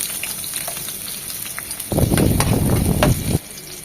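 Chopped onion hits hot oil flavored with bay leaf and sizzles loudly for about a second and a half, then the frying fades back to a quiet hiss.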